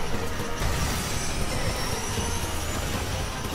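A train rushing past in a racing video game, a steady broad rumble with rail noise and a faint high whine holding loud throughout.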